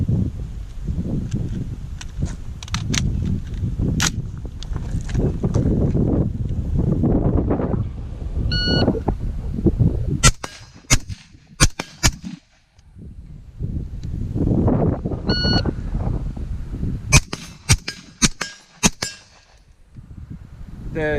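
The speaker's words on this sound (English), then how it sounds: "The sound hitting the steel is louder than the sound going off of the rifle." Suppressed shots from a Primary Weapons Systems MK116 Mod1-M rifle, with a run of sharp metallic clangs as rounds strike steel targets, the impacts louder than the muffled reports, heard over steady outdoor wind noise.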